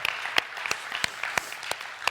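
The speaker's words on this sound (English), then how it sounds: "get ready to clap" A church congregation claps in a loose, sparse rhythm, a handful of sharp, fairly close hand claps spaced out over a steady low room murmur, with no voices rising above it.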